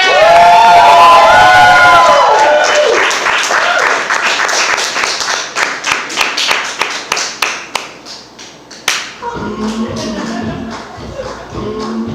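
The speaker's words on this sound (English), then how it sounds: "please, everyone, put your hands together for the one and only Nicholas Osborn" A comedy club audience breaks into loud cheering and whooping, then sustained applause for comedian Nicholas Osborn that gradually thins into scattered individual claps before voices resume.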